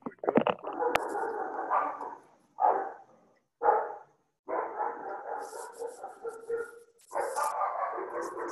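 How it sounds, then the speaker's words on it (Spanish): Dogs barking in a yard, repeated bursts of loud nearby barking separated by short pauses, with occasional higher yips. "oyen esos perros, nunca hacen ruido"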